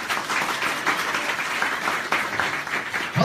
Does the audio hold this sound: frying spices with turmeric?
no